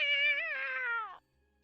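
A person imitates a cat with one drawn-out meow, a clear voiced sound that slides slightly downward and stops abruptly after about a second.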